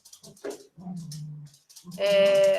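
An excited dog playing indoors makes short yips and a drawn-out whining, bleat-like cry, close by and fairly loud, with brief pauses between the sounds.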